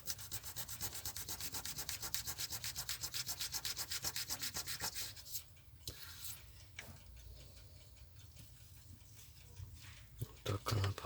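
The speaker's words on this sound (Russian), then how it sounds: "лучше, конечно, забрать зерно покрупнее, а потом уже полировать вот этим" Watch glass polished by hand with fine 2500-grit abrasive during restoration of watch hands and crystal, a steady rhythmic rubbing stroke repeating quickly, then slower scuffs and small knocks, with someone talking over it.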